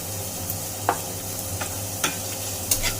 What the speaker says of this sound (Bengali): আমি শুটকিটাকে পেঁয়াজ রসুন কাঁচামরিচের সঙ্গে ভালো করে ভেজে নিচ্ছি।